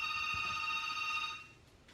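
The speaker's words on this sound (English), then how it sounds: "There's a phone ringing." A telephone rings with a steady electronic trill for about a second and a half, then cuts off, loud and close with no talking over it.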